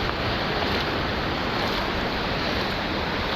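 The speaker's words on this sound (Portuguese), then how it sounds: "Você consegue ouvir este mar?" Sea waves roar in a constant, dense wash of broadband noise, loud and close with no clear individual breakers and no voices.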